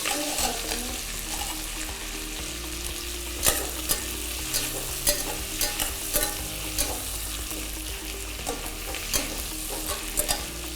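Onions, capsicum and carrot fry in a hot pan for quinoa khichdi, giving a loud, continuous sizzle close up, with repeated sharp scrapes and clacks of a stirring spoon against the pan.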